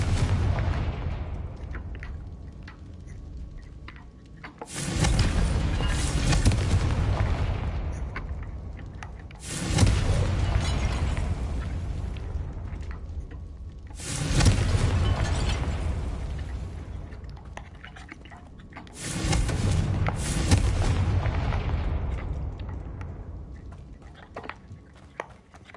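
Confringo blasting spells erupt in the Hogwarts Legacy video game: four heavy, booming explosions spaced roughly five seconds apart, each hitting hard and rolling off into a long rumbling decay.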